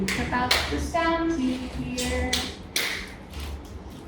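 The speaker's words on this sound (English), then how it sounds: "I hear somebody clapping the different parts of the words." Several short hand claps tap out word syllables in a classroom literacy lesson, sparse and moderately close, with a voice speaking between them.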